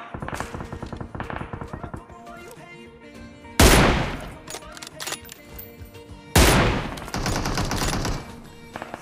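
Sniper rifle shots from an M24 in PUBG Mobile, played in the Pochinki area. Two loud, sharp blasts ring out about three seconds apart, each trailing into a long decay. Between them runs continuous game background sound with dense, rhythmic clicking.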